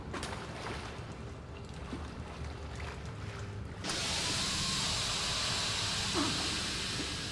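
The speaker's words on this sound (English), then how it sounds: "Okay, so it turns out the steam actually hurts me." Steam vents hiss in the horror game Outlast, a faint airy rush that swells abruptly into a loud, steady broadband hiss midway and holds to the end.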